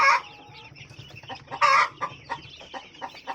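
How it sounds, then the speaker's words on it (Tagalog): One-week-old chicks on a poultry farm cheep and peep in repeated high, bright bursts with softer chirps between them, fairly close, over a low background hum. "Doon naman tayo sa mga sisiyo mga kaparbers."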